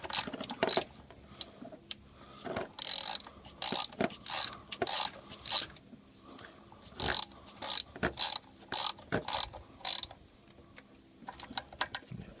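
A ratchet clicks rapidly in repeated short bursts, close and crisp, as water pump bolts are snugged down on a Chevy Impala SS, with brief pauses between each series of clicks.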